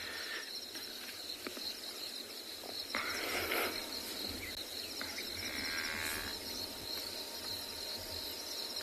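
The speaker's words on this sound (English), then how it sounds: "There's a cow off to our left that's, I think, quite keen to get going." A cow moos in long, drawn-out calls from off to the left on an early sunrise safari drive, with a constant chirring of crickets and insects throughout and no talking.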